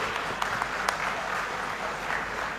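Audience at a large gathering of gold-refining traders in Vita applauds steadily, a dense continuous patter of many hands clapping throughout, with a few sharper claps standing out.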